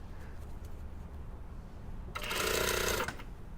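A sewing machine stitching an invisible zip into the back seam of a pencil skirt, a quiet bed of room noise and then a close, steady whirring run of about one second with no talking.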